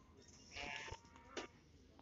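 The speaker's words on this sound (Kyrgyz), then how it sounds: "Кысыр койлор экен." Sheep, barren ewes penned at a livestock market in Batken, give two short, faint bleats in quick succession over a quiet background.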